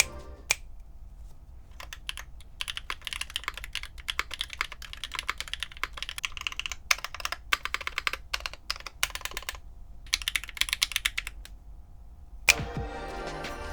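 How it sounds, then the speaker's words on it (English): Rapid, steady clacking of a Keebfront Bigwig mechanical keyboard with linear switches, dense bursts of keystrokes with brief pauses, close and clear. "Here's a quick stock typing test."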